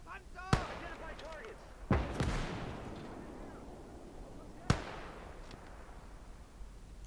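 Mortar shots fire in the WWII strategy game Gates of Hell: three sharp booming blasts spaced several seconds apart, each with a rumbling tail, over a low battlefield din.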